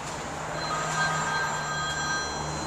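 A phone rings during a repair job on a 2011 Chevy Silverado, a steady electronic tone held throughout over a constant background hum, fairly loud and without talk.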